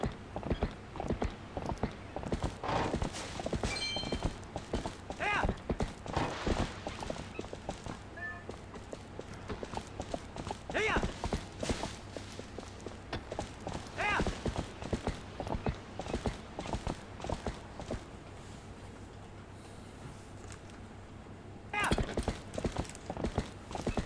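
Epona, the horse in the video game Twilight Princess, walks with steady, repeated hoof clip-clops over a continuous game ambience. Occasional creaks and mechanical sounds mix in, and there is a brief whinny-like cue near the end.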